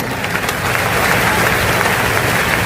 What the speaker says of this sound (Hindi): जोरदार ताली बजा करके